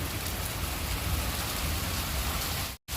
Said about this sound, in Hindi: और बहुत ज़्यादा तेज़ बारिश हो रही है